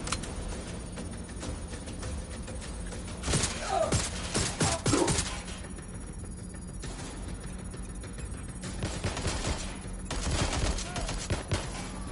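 Gunfire in Watch Dogs Legion, bursts of automatic fire clustered around the middle and again near the end, close and sharp, with a voice calling out briefly over the shooting.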